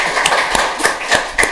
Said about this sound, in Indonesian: Boleh tepuk tangan lah.